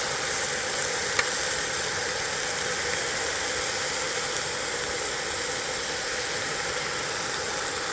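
Green onions stir-frying on a cast iron Joseon griddle (Anseong foundry) outdoors: a steady, dense sizzle that runs unbroken and fairly loud throughout, with one faint tap of a utensil, no voices.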